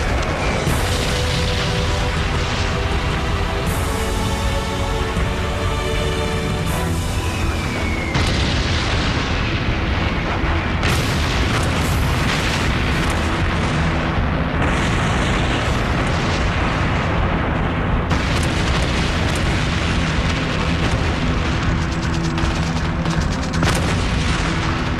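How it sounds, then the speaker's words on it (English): More than 200 Allied bombers drop bombs on a monastery in World War II, a sustained, loud barrage of overlapping explosions and deep booms that never lets up. "More than 200 Allied bombers will drop over 500 tons of bombs on the monastery."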